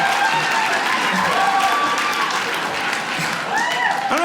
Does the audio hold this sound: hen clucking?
no